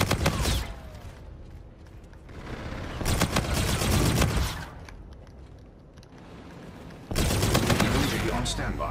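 Gunfire in Call of Duty Infinite Warfare on PS5, bursts of rapid automatic shots in several loud clusters separated by quieter gaps with game sounds.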